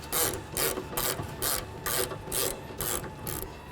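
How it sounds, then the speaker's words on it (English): A ratchet with a 13mm socket clicks in seven or eight quick, evenly spaced strokes, close and loud, while tightening bolts on a hinge. "And I'll take my 13mm socket and a ratchet."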